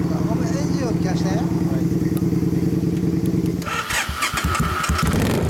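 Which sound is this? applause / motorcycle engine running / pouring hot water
motorcycle engine running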